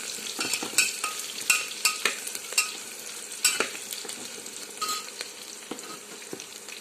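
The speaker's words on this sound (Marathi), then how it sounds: "चक्रफूल, दालचिनी, लवंग घालून घेऊ। पुन्हा एकदा चांगलं असं मिक्स करू।" Star anise, cinnamon and cloves fry in a pan while a spoon stirs them, giving close scraping clicks over a light sizzle in an irregular rhythm.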